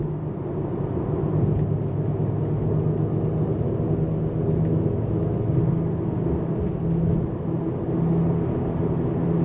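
A 2021 Mercedes-Benz GT53 AMG cruises on a road, giving a steady low engine and road rumble that holds even and unbroken throughout.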